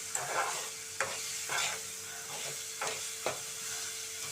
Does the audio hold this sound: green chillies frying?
yes